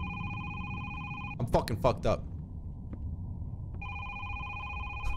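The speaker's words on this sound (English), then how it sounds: "Let's go answer the phone." A telephone in a hide and seek video game rings with a steady electronic trill, pausing while someone speaks over it, then resuming the same repeating ring clearly afterward.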